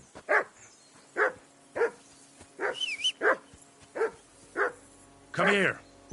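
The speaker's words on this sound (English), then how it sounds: "Whistle at that mutt of yours to stop barking!" A dog named Mutt barks repeatedly in Kingdom Come: Deliverance 2, about eight loud, close barks in a steady rhythm, with a brief whistle-like tone partway through.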